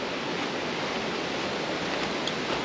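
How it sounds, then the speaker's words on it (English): Cummins Falls waterfall rushes steadily from a distance, a constant broadband hiss of falling water with no talk over it. "You can't see it yet, but I can hear it. I don't see the waterfall yet."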